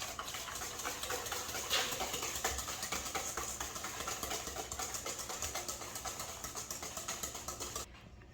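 Eggs whisked by hand in a bowl, five yolks and one whole egg beaten with half a cup of sugar for minty lime bars, a steady rapid ticking rhythm of whisk strokes running continuously, close and fairly quiet, with no talking.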